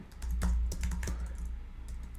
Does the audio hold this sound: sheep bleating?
no